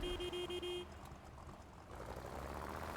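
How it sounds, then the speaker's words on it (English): A vehicle horn in the game Crossout gives a few quick, nasal toots in a row over a rumbling engine and road noise, then falls silent while the engine keeps droning. "do a friendly honk to your buddies here"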